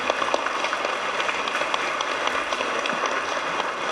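Audience applause at a regional council meeting, a dense, steady wash of many hands clapping together, fairly loud and sustained throughout with no speech over it.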